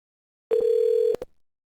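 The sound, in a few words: phone ringing on a new inbound call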